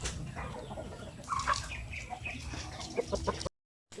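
Shamo aseel chickens, including a hen of about 4 kg, cluck softly nearby with a few brief flaps of wings, against a low outdoor background hum.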